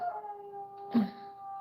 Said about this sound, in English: Sorry, that's the dog I'm dog sitting.